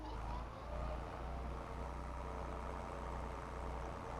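Steady low tractor engine drone in Farming Simulator 22, the first tractor from the tutorial, idling continuously at moderate level with a deep, even rumble throughout.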